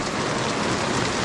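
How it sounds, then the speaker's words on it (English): Heavy rain pours at a campsite at Huzzah Valley Resort in Steelville, Missouri, a dense, continuous hiss that stays loud and even throughout, with no voices. "Actually, it's pouring."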